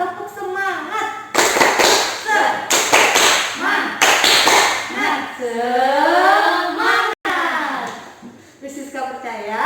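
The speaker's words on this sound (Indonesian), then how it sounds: "mari kita tepuk semangat dulu yuk, tepuk semangat." Children in a kindergarten class clap in a rhythmic spirit-clapping routine (tepuk semangat), with sharp bursts of claps in a patterned rhythm. Voices chant along between and over the claps.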